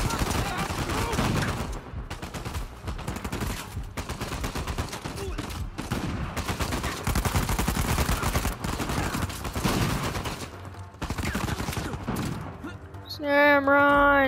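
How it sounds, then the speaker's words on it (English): Dense, sustained gunfire from the video game Uncharted 4, with rapid automatic bursts and overlapping shots filling about thirteen seconds at close range, followed by a brief voice near the end. "I'll just shoot my way through this."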